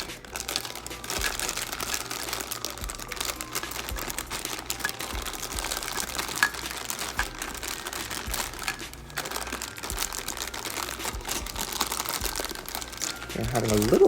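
Plastic packaging on an anime figure box torn open and the plastic-wrapped parts pulled out, a continuous close crinkling and rustling that runs throughout.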